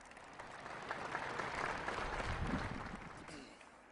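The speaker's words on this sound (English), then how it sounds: "Let's give them another round of applause." Applause from a crowd at a bridge dedication swells and holds steady for a few seconds, then tapers off toward the end.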